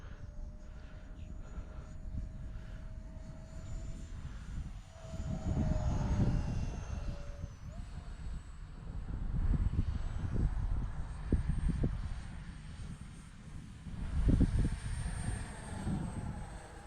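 An electric ducted fan model jet trainer's whining fan hums steadily overhead, pitch shifting slightly as it passes, with wind rumbling against the microphone underneath.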